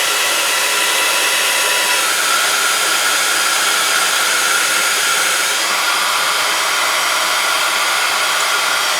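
An embossing heat tool blows continuously at close range over a card, a loud, even, breathy whoosh that holds steady throughout with no pauses.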